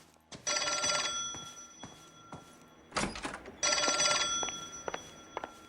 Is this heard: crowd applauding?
no